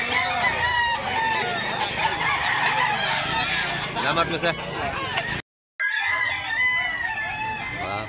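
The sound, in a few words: rooster crowing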